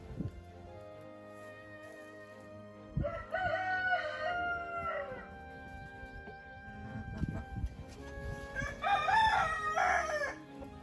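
A silkie rooster at a country dacha crows twice, once early and once near the end, each crow a loud, drawn-out call that stands out clearly over quieter farmyard background.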